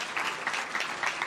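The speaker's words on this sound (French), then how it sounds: "si vous voulez bien applaudir l'association Cœur de Vie" Brief, fairly faint applause from an audience in a hall at a reading event in Cannes, honouring a hosting association; scattered clapping with a soft, uneven rhythm.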